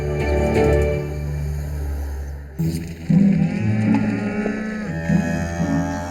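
Beef cattle on a small Yorkshire farm low repeatedly in a series of deep, drawn-out moos, loud and close, with other animals joining in the background.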